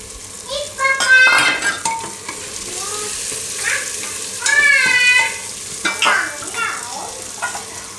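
Green peas stirred into cooking tomatoes for pressure cooker pav bhaji, with a soft sizzle under clattering spoon scrapes against the pot and a few bright metallic rings, no speech.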